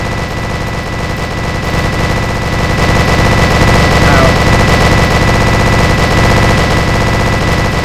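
A minigun firing in a Roblox game, a dense, continuous rapid-fire roar that runs loud through the whole stretch and swells slightly partway through.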